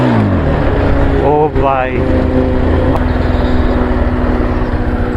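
A Bajaj Pulsar 220F motorcycle engine revs hard during a wheelie attempt, a loud continuous roar whose pitch climbs sharply partway through before settling, with a voice briefly calling out over it.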